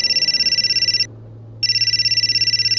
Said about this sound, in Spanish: ahí continuó sonando el bendito celular